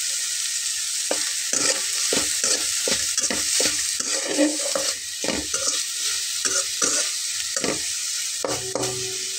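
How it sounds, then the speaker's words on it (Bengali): Cooked pointed gourd for bhorta is crushed on a stone shil-pata, with a run of rhythmic, scraping grinding strokes about once every half second over a constant hiss, close and fairly loud. "আমি এটা শিলপাটাতে বাটবো।"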